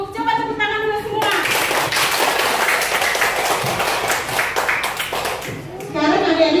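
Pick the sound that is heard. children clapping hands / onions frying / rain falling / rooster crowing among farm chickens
children clapping hands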